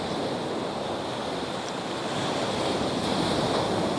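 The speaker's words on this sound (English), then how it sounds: "I noticed there's a cascade or two just over here when a larger wave comes over" Steady, loud roar of ocean surf as waves wash over coastal rock and cascade off it in a small waterfall, continuous wash with wind noise and no voices.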